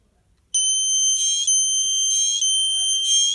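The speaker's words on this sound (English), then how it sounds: "Now the horn sounds and both LEDs are on." A Snap Circuits horn blares loudly in a harsh, buzzing electronic tone that pulses in stronger bursts roughly every second. It starts suddenly after a brief quiet moment and has no talk over it.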